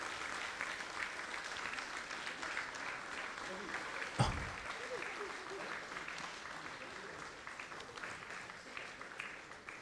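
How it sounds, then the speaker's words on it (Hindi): An audience at a large public gathering gives a sustained standing ovation, steady dense applause rolling on throughout with one sharp thump midway. "इन युवाओं के लिए एक बार हम लोग अगर फिर से तालियां बजा दें"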